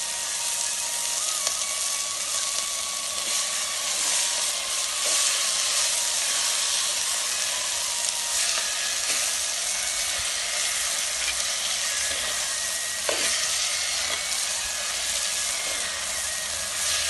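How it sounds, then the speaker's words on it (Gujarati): Sautéing in a pan before kali ni bhaji greens are added, a steady close hiss and sizzle of frying holding evenly throughout with occasional faint clinks, no voices. "બધું બરાબર સંતળાઈ જાય ત્યારબાદ આપણે કલીની ભાજી નાખીશું."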